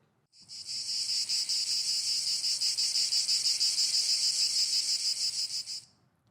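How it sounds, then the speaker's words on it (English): Cicadas buzz in a loud, high-pitched pulsing drone that swells up, holds steady for several seconds, then fades out. "This is the sound of cicadas buzzing in the trees."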